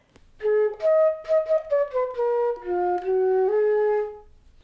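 A single flute plays a short melodic phrase, a run of clear sustained notes stepping down, then up, with brief gaps between notes and no voice.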